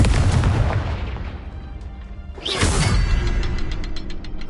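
Confringo fire spell blasting in Hogwarts Legacy: a loud explosive boom with a rumbling tail, followed a few seconds later by a second sharp burst and crackling debris, with no talk.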